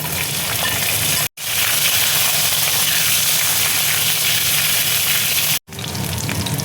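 Okra drops into hot oil already seasoned with mustard seeds and dried red chillies, giving a loud, dense, continuous hissing sizzle close up, broken by two brief cuts to silence.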